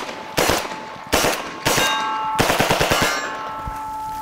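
A UMP45 firing incendiary rounds at a steel target about three feet away, loud bursts of shots each followed by ringing metallic clangs that hang and overlap, close up with no talk.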